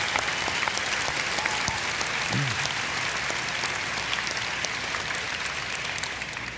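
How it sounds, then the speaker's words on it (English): A room full of people at a Minecraft convention panel applauding steadily, dense continuous clapping that holds an even level from start to finish. "So can we get a round of applause for the people who help us?"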